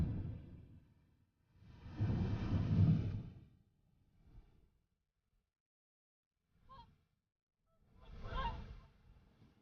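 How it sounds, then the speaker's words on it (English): Whooper swans at Loch Gruinart on Islay call in loud, hoarse, honking bursts, with a long call early, a few short ones later and another clear call near the end. "Hooper swans."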